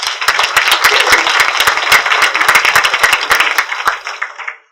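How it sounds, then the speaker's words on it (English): A conference audience applauds at the launch of Invest: Greater Fort Lauderdale: dense, loud clapping from many hands holds steady for about four seconds, then quickly dies away, with no voices over it. "That deserves a round of applause."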